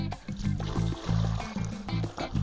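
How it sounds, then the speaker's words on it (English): Water pours into the water tank of a camper converted from an ambulance, a steady gurgling rush with uneven sloshing surges, close up. "Gotta put some water in the tank."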